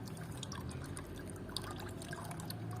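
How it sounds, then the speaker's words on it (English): Commercial-grade sodium hypochlorite solution trickles slowly into a stirred liquid during gold recovery from phone circuit boards, giving a close, continuous light pouring and dripping with faint sloshing. "I want to add it slowly to the solution while stirring the solution"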